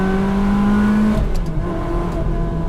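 A Ferrari 360 Spider's V8 with manual gearbox holds a steady high rev, then drops to a lower, rougher hum, loud and close, with no talk over it.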